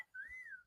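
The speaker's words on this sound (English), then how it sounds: "Got a whistle from the peanut gallery." A single sustained whistle from someone in the audience at an outdoor morning gathering, rising slightly and then easing down over about half a second, fairly faint and on its own.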